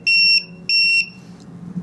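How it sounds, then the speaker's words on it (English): A TickTime timer's alarm sounds loudly, two steady electronic beeping bursts close together, each about a third of a second, the second trailing off, with no one speaking. "the alarm is about to go off, and we'll see what it sounds like"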